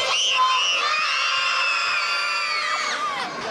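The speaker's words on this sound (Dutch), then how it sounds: "Zullen we hem eens heel hard roepen?" A crowd of children shouts and cheers loudly for Sinterklaas at his arrival parade in Leusden, their high voices blending into one sustained yell that fades at the end.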